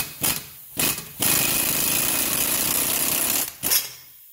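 A pneumatic impact gun rattles on a hub bolt of a 2001 Subaru Outback in short bursts, then one long sustained hammering run, then another brief burst, loud and close.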